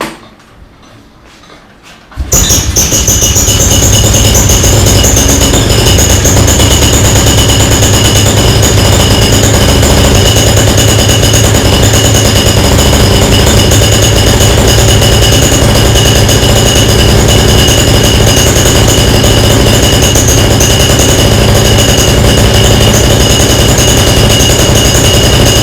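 After a couple of seconds of quiet, a small engine with its choke off catches on a pull start and then runs loud and steady at a constant idle right up close, with no one speaking.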